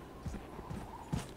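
Footsteps of an enemy hero in Overwatch, a few soft thudding steps at a moderate distance, quiet and alone with no talk over them.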